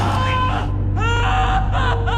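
A man screams in intense pain as a drill goes into his calf during a gangster film scene, several loud strained wailing cries in close succession.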